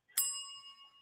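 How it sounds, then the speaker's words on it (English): A single bell sound effect dings once, bright and clear, then rings out with a long, fading metallic tone. "I used to have people clapping, but we'll give you one bell, Heather."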